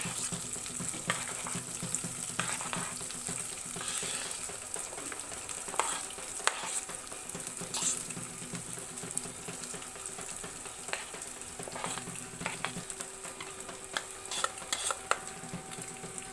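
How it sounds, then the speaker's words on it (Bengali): Washed, dried rice frying in a pan for Bengali basanti pulao sizzles steadily at low volume, with occasional scrapes and clinks of a spoon stirring it. "চালটাকে 2-3 মিনিটের জন্য একটু ভেজে নেব।"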